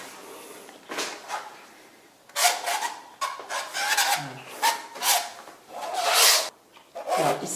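Palette knife rasping and scraping metallic paint across a mixed-media surface, a series of close, gritty strokes in irregular bursts with short pauses between them, no voices.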